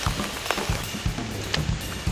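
Rain falls on a hiker on the Appalachian Trail, a steady wash of close drops pattering with scattered heavier splats and knocks, with no talking.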